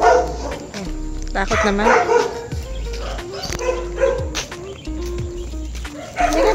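A dog barks in bursts while walking along a road in Tarlac, sounding agitated, with harmonic yips and barks mixed under steady conversational talk and outdoor background noise throughout.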